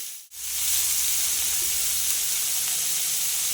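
Tender young jackfruit fries in hot oil with salt in a wok, giving a close, steady hissing sizzle that swells right after a brief dip and holds evenly throughout.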